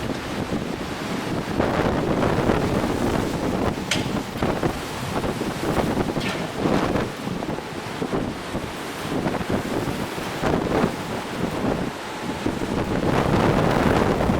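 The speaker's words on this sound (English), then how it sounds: "Wind shifted 180 degrees." Hurricane Charley's violent wind roars steadily over Punta Gorda, Florida, buffeting the microphone in a loud, continuous rush with surging gusts throughout.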